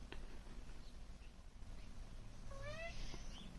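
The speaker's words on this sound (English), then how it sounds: "And the cat saying hello, apparently." A single short cat meow rises faintly near the end over a low background hum, with a few soft clicks earlier as the cat scratches cardboard.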